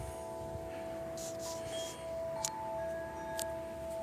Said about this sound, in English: they do have a couple wind chimes